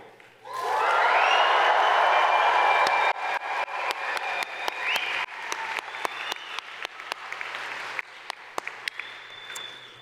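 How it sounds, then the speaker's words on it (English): A crowd cheers and applauds graduates at a university convocation ceremony, a loud burst of whoops and clapping that swells suddenly, then thins into scattered claps that fade away. "please give them the biggest cheer of all"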